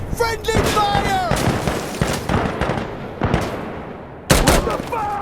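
Friendly gunfire in the video game Insurgency: Sandstorm, loud bursts of rapid shots cracking across the whole clip, with a sharp fresh volley near the end, while someone shouts in alarm over the fire.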